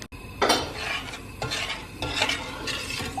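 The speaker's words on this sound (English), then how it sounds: "Let's stir it." A utensil stirs food in a pot on a stovetop, scraping and clinking against the metal in a few repeated strokes, close and fairly loud, with no talking.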